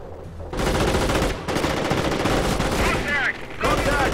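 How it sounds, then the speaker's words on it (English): Enemy gunfire rattles in the Company of Heroes World War II strategy game, a dense, loud run of rapid shots and bursts filling most of the stretch with brief gaps, mixed with battle noise and voice callouts. "Contact! Enemy fire!"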